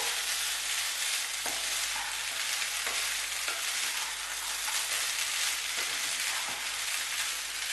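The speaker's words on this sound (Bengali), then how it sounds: "ভেজে রাখা কাজু, পনির আর অনিয়নটাও আমি এখন দিয়ে দেব। মিক্স করে নেবো ভালোভাবে।" Continuous loud sizzle of a vegetable pulao frying in a pan as fried cashews, paneer and onion are stirred in, with rhythmic scraping strokes of a spoon every second or so.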